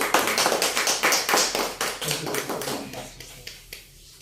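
A church congregation at a worship service bursts into loud applause, a quick flurry of close, crisp claps that fades into a few scattered slaps.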